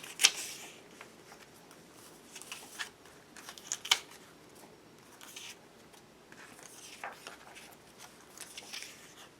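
Scissors snip through paper images cut out for a collage, making soft, intermittent crisp clicks and rustles against a quiet background.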